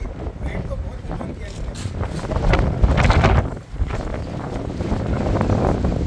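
Strong wind gusts roar across the microphone outdoors in stormy weather, a loud, continuous buffeting rush that swells around the middle, with voices faintly underneath.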